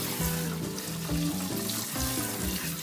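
Cold tap water runs steadily over cooked homemade vegetarian spaghetti being rinsed and cooled in a kitchen sink, a close, continuous splashing with shifting tones as the pasta is lifted and dropped.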